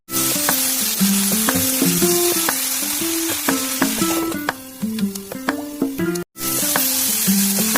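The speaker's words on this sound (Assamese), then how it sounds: "আলুখিনি এতিয়া ইয়াতে দি লম একেলগে ভাজিম কিছু সময়" Jika gourd and potatoes frying together in a pan, a continuous loud sizzle broken by regular stirring scrapes and clacks, with a brief cut near the end before the sizzling resumes.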